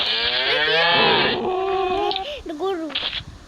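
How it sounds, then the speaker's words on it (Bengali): A cow gives one long, drawn-out moo up close, followed by a voice talking over shorter, lower sounds. "গরু"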